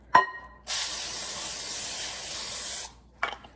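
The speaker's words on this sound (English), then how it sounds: "And spray the inside with pan" A small click, then a steady aerosol cooking spray hisses into a foil-lined pan for about two seconds before a couple of light clicks and rattles.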